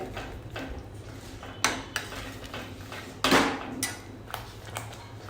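A spoon stirs cream into palak paneer in a pot, giving a few quiet scrapes and sharp metallic clinks against the side, close by and with no talk.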